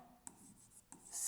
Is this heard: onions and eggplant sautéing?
no